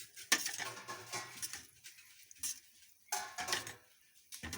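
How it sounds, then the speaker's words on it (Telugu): A spoon stirs dal cooked with drumstick leaves in a metal pot, giving a few irregular scraping clinks against the pot with quiet gaps between them. "ఇప్పుడు పప్పు బాగా కలిపేసి"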